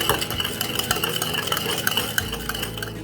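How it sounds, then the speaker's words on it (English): A spoon stirs a melted microwave sugar mixture in a bowl while making chocolate, giving repeated scraping clinks at a steady, close, fairly loud pace, with no speech. "Okay, so after we've stirred in all of our microwave sugars"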